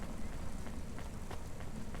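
Constant rain falls in the Cloudpunk video game, a faint, even hiss of dense drops with soft patter throughout.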